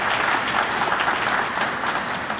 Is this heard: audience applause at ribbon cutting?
yes